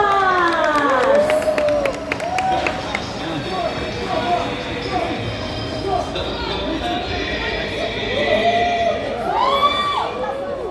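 A crowd at an anime convention applauds and cheers in a large hall, a steady wash of clapping with shouts rising near the start and end, alongside music playing.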